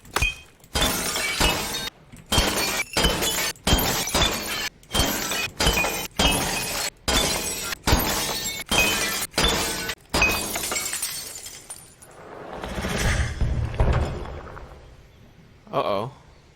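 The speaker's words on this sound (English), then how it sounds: "I have to destroy the candles too" Candles in Battlefield 1 shatter one after another in a rapid, loud burst of repeated glassy breaks, followed by a rumbling crash and a brief final crack.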